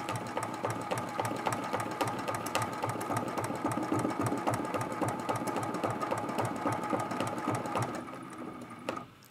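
A sewing machine quilting a lamp post art quilt runs in a fast, steady stitching rhythm close by for most of the stretch, then slows and stops near the end.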